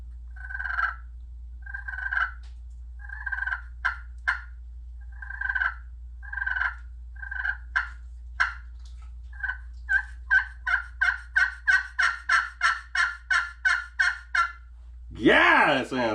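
A glass-over-slate friction turkey call imitates a hen turkey with close, clear yelps, at first in spaced short series and then in a faster run of sharp clucks, over a low steady hum, ending with a brief louder scratch.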